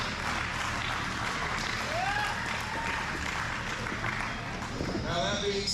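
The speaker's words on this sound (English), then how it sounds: "So give yourself a round of applause" An audience at an Indiana Powerhouse Wrestling show applauds in a continuous broad wash of clapping that fills the hall, while voices talk faintly through it.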